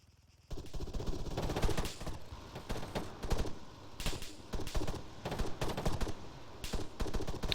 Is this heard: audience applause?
no